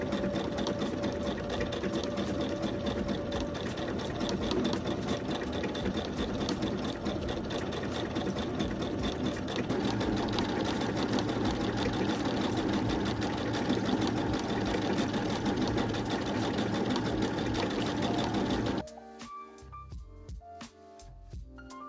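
Domestic sewing machine running a decorative star stitch on denim patchwork, a steady close whirring hum that runs continuously, then stops near the end, leaving a few faint clicks.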